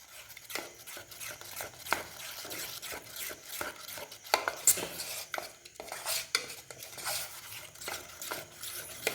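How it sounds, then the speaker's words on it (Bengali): Jalebi batter is whisked and stirred in a bowl, giving a steady run of close, wet scraping and clicking strokes with short pauses between bursts. No one speaks. "এইভাবে বেশ কিছুক্ষণ এভাবে ভালো করে নাড়িয়ে নাড়িয়ে মিক্সড করে নিতে হবে"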